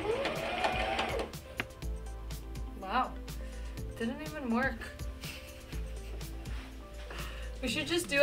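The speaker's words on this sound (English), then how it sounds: "it's time to sew" A sewing machine stitching clothing runs with a low, steady mechanical hum beneath near-constant talking.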